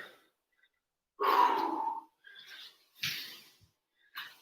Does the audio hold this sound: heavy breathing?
yes